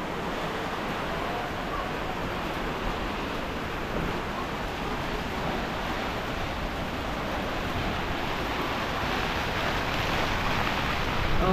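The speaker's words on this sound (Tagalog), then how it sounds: "Ang lakas ng ulan." Steady heavy typhoon rain and gusting wind roar as a continuous, broadband wash with no breaks, moderately loud and unbroken throughout, no voices heard.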